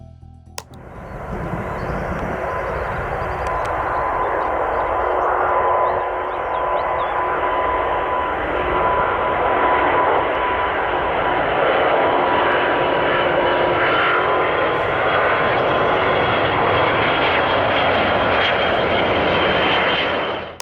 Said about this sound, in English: The sound of the remaining engine working overtime fills the air.